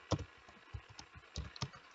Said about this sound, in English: now you're going to have to type in the name of the website